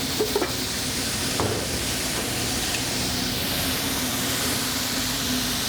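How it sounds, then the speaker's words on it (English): Venison cutlets fry in hot oil for a venison chicken-fry dish, giving a steady, close sizzling hiss that holds throughout with a few brief crackles near the start. "I'm getting a nice fry in there"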